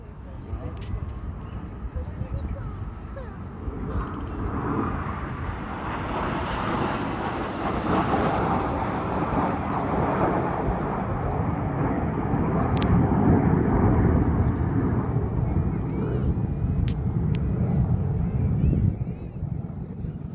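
Several RAF Red Arrows jets roar through an air display at a festival, a loud, sustained rumble swelling and holding across the whole stretch, with wind buffeting and a commentator talking over it.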